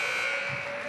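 A basketball game-end buzzer blares in a college gym, one long steady electronic tone held loud and unbroken throughout.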